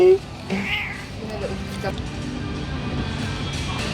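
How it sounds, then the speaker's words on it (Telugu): A black and white cat in a pet shop gives a short meow near the start, followed by a faint second cry, while a person talks and shop background noise continues. "బ్లాక్ అండ్ వైట్ పిల్లి భలే ఉంది."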